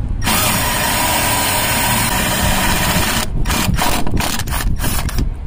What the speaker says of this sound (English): Nothing like drilling holes in muddy water.